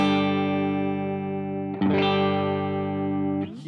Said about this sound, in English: And when you strum the full chord